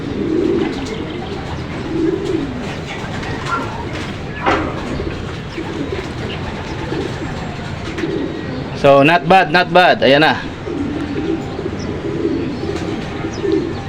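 Racing pigeons arriving one after another at a loft during SDR training in Angono, Rizal, with cooing and a brief burst of flapping wings landing, while someone comments nearby.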